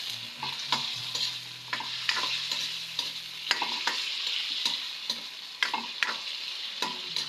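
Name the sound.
sautéing vegetable shoots in a pan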